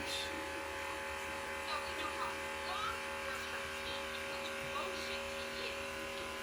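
Electric hair clippers fitted with a number 1 guard hum steadily and evenly while cutting a boy's hair at home, close and constant, with faint voices now and then.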